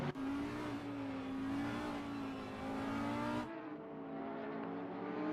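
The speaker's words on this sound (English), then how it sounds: "I think one of the Lamborghinis just rushing through the field there, getting back to their position" A Lamborghini GT3 race car in Assetto Corsa Competizione racing at Spa-Francorchamps, its engine a loud sustained high-revving drone close by that drops abruptly near the end as it goes past.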